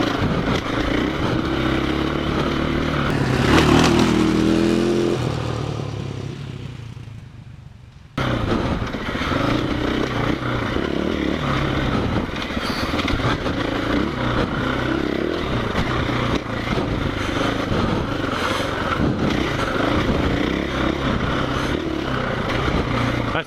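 A KTM 500 EXC-F dirt bike rides on forest trails with a continuous close engine roar and revs, along with clatter and wind rumble throughout and a brief dip mid-ride.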